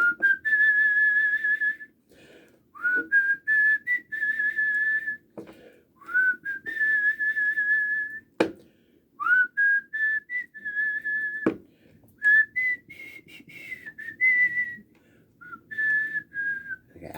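A person whistles a song in clear, sustained phrases with brief pauses between them, alone and close, with a couple of sharp clicks along the way.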